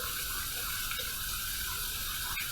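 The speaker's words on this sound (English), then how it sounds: "we're heating this up under some hot water" Hot water runs from a tap over a shaving brush in a steady, close, broadband rush, unbroken for the whole stretch, with a couple of faint clicks and no speech.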